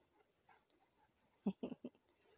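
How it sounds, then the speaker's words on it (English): A dog gives a quick cluster of three or four short, high whimpers close by after a quiet stretch. "Those are good dogs."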